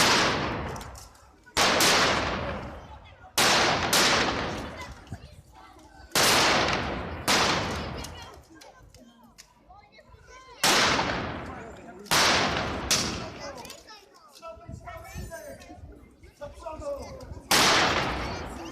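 Volleys of rifle and submachine-gun fire from Mauser rifles during a historical reenactment at Lubawka, with loud sharp bursts repeating about every two seconds and echoing tails between them.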